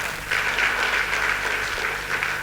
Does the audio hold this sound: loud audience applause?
yes